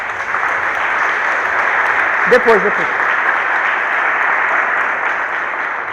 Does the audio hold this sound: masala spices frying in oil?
no